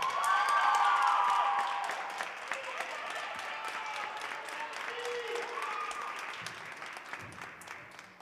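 Applause at a high school award ceremony, dense clapping that starts loud and gradually thins, with some voices and crowd murmur underneath.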